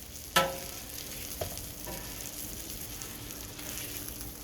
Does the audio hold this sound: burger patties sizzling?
yes